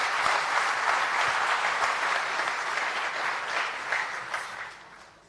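An audience claps in a sustained, dense round of applause after a talk, loud at first and thinning out toward the end.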